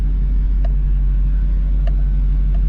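An LBZ Duramax diesel-swapped GMC Yukon driving, with a steady, loud low engine rumble and road drone inside the cab, broken by a few faint clicks.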